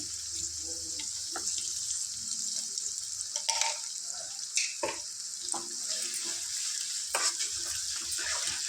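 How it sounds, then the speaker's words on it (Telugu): Goat tripe sizzles steadily in hot oil in a home kitchen, with a constant close hiss and occasional clinks and scrapes of stirring, and no talking. "ఫస్ట్ ఇది బోటీని చక్కగా ఆయిల్లో ఫ్రై చేసుకుందాం"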